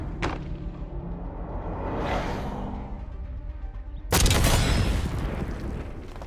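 A launcher tube round fired and exploding in the video game Black Ops 6: ambient game noise builds, then a sudden loud boom bursts in and rumbles on to the end of the clip.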